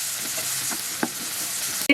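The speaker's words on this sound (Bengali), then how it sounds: "এটাকে আমি হালকা সফট হয়ে আসা পর্যন্ত একটু ভেজে নিব।" Chopped onion frying in regular cooking oil in a pan, a bright continuous close sizzle with a few soft spatula taps and a sharp clack at the very end, no speech.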